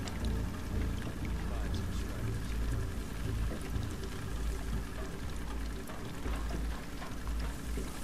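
Boat moving through water in The Last of Us Part II, a steady loud churning wash and engine-like rumble running continuously from start to finish.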